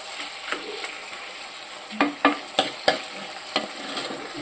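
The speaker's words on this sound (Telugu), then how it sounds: "ఇప్పుడు టమాటోలు కూడా వేసేసుకుందాము, కలుపుకుందాము." Tomatoes and salt are stirred into a dal curry in a pan, with scattered scraping clacks of a spoon over a soft steady sizzle, close and without talk.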